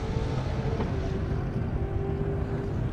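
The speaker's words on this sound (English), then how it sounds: "Wow, that Mustang's moving." Ford Mustang drag car of about 1,300 horsepower racing down an airport airstrip, a steady loud engine roar with wind buffeting, continuous and unbroken.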